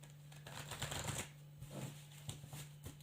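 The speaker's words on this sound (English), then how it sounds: "I'm just going to give these a bit of a shuffle" A deck of tarot cards being shuffled in quick riffling bursts, close up, with brief pauses between the flurries of papery flicks.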